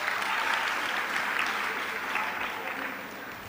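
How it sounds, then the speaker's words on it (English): A summit audience at a hotel conference hall breaks into dense, sustained applause, an even roar of many hands that holds steady for a few seconds and then eases off slightly. "Another applause for her, please."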